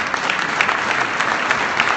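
Applause from an audience at a political event honoring legislators, steady dense clapping filling the hall continuously with no pauses.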